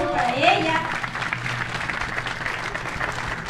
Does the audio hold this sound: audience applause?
yes